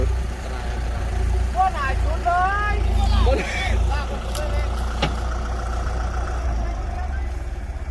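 A farm tractor hauling a sugarcane truck, its engine rumbling low and steady close by throughout, while people talk over it.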